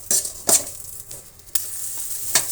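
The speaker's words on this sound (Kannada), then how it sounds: "ಈಗ ಇವುಗಳನ್ನೆಲ್ಲ ಕೂಡ ಚೆನ್ನಾಗಿ ಫ್ರೈ ಮಾಡ್ಕೋಬೇಕು." Ingredients for a village-style cluster bean bassaru fry in a spoonful of oil in a pan, a steady close sizzle broken by several sharp scraping bursts of stirring, with no talking.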